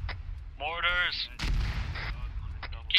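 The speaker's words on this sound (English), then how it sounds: "Mortars!" Mortar fire in a military video game joint operation, one heavy thump midway with a few sharper reports around it, while a voice speaks briefly near the start.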